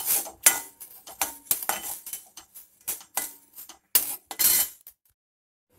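Fifty grams of fennel seeds are dry roasted in a pan for sambar powder, with a spoon scraping and clinking against the metal in quick irregular bursts, then a brief silence near the end.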